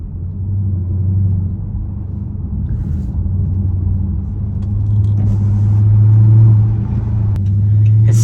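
Dodge SRT car engine driving through suburban streets, a deep steady low rumble from inside the car that swells louder toward the end as it accelerates.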